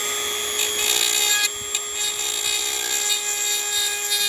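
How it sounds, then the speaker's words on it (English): A Dremel rotary tool grinds off parts of wheels on a 1970 Chevy C10 pickup, a steady high-pitched whine held throughout, close and fairly loud with a brief dip midway. "I have to Dremel these off."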